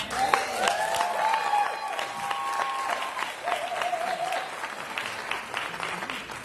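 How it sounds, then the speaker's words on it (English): A round of applause from the crowd at the 37th Annual Mayor's Arts Awards, dense sustained clapping filling the room, fading slightly toward the end, with faint tones and little speech. "please give them a round of applause"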